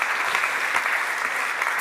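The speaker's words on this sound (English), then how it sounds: "warm applause for Dr. Mateus." Steady applause from a lecture audience after a talk, a dense patter of clapping hands at moderate volume for a couple of seconds.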